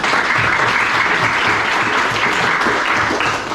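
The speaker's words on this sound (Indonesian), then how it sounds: "Aplaus untuk kita semua." A classroom of students applauds together at the end of a lesson, a dense, steady wash of clapping that fills the room at close range with no pauses.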